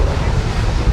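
Sea waves at a beach in Da Nang roar in a dense, constant wash mixed with heavy wind buffeting the microphone, loud and close for under a second.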